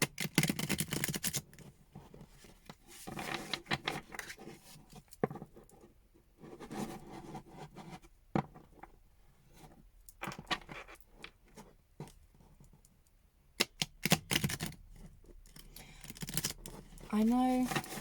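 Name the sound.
shuffling a deck of tarot cards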